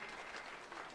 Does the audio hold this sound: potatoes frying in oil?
no